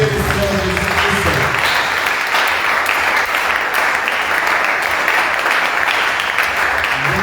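A church congregation applauding, loud sustained clapping filling the room, with a voice briefly audible at the start.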